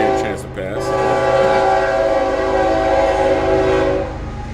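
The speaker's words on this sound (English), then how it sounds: "We'll let the train give a chance to pass." A train rolls past close by and loud, its horn sounding in long sustained blasts over a continuous rumbling roar that fills the whole stretch and eases slightly at the end.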